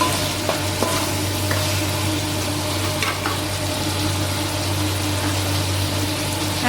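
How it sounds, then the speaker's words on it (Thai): Eggplant stir-fries with pork cartilage in a spicy Thai stir-fry, a loud close sizzle over a low steady hum, with a few spatula knocks and scrapes against the pan. "จากนันใส่มะเขือนะคะทุกคนค่ะ ใส่มะเขือก่อนเพราะเขาจะสุกช้ากว่า"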